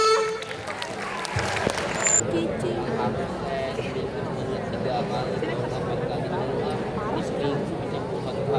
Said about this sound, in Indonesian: Beri tepuk tangan yang meriah.